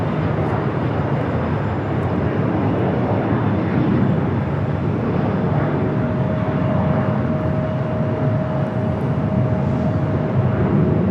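A United Express Embraer E175 regional jet arriving at LAX, a steady, loud engine roar with a faint whining tone that holds evenly throughout, with no voices.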